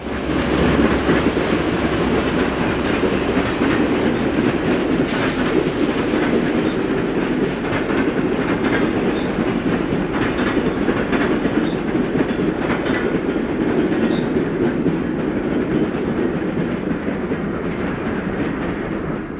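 A northbound B&O/C&O passenger train running from Toledo toward Detroit rolls past close by, a steady loud roar of wheels and rail clatter holding for the whole stretch with no letup.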